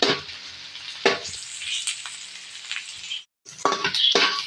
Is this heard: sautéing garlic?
yes